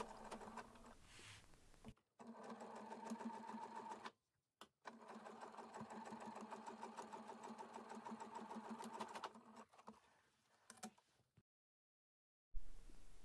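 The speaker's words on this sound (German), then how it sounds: "Jetzt kannst du entlang dieser Linie nähen." Sewing machine stitching a seam along a marked line on a pillow-made bag, running in steady continuous bursts with a pause midway and a short stop-start near the end, close and clear with no talk.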